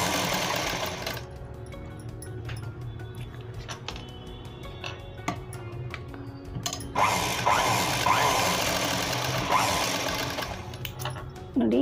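A sewing machine runs steadily while stitching piping onto a blouse neckline, a continuous mechanical whir that grows busier and louder in the second half, with no one speaking.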